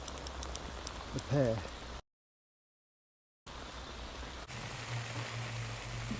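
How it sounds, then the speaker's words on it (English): Heavy rain pours steadily during a carp fishing session, a dense hiss of drops broken by a short gap, with a brief voice over the downpour. "the rain was so bad"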